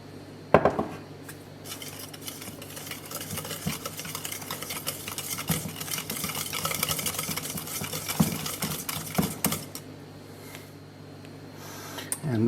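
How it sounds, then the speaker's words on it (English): Cream being whisked for a Norman apple, almond and Calvados tart, quiet rapid clinking and scraping of a whisk in a bowl, with occasional sharper knocks of utensils. "We will whisk in our cream."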